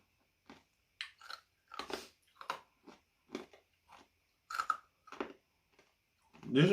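A hard, crunchy pork scratching is chewed close up, giving a series of sharp, irregular crunches separated by short pauses, ending in a louder burst.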